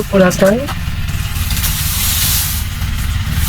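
Banana flower fritters coated in rice flour frying in hot oil give a steady, close hiss and sizzle that carries on throughout, after a brief voice at the start.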